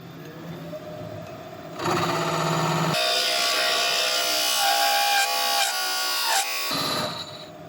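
A woodturning lathe hollows out a wooden piece with a gouge, giving a steady high-pitched cutting whine that grows louder and harsher partway through, then continues with rough scraping texture, close and alone.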